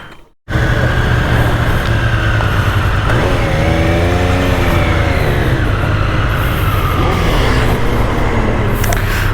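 Triumph Street Triple R motorcycle engine running steadily and loud on a ride in Dharamshala, with rising and falling rev tones after a brief silent start and a constant low rumble throughout.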